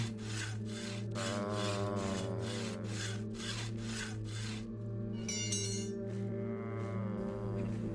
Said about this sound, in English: Use our hacksaw again on this one.